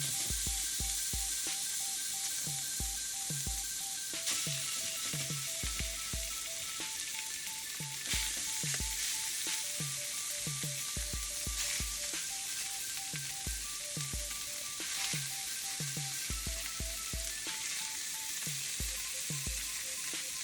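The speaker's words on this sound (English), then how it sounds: "We're gonna put some meat on here." Birria meat searing on a hot griddle, a continuous dense sizzle running the whole time, overlaid by repeated low thumps and light scraping, with faint steady tones in the background.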